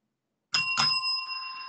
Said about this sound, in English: that was the double bell